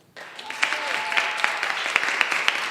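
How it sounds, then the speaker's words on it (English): A small group claps at a school holiday break gathering, a sustained patter of hands building from near silence after a moment and continuing steadily, with a few sharper individual claps standing out. "Round of applause for Mr. Martin as well"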